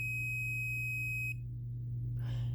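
A multimeter's continuity tester emits a steady high-pitched beep for over a second while probing capacitors charging on a Gigabyte RTX 3080 Gaming OC graphics card, then cuts off abruptly, leaving a low hum and a faint rustle.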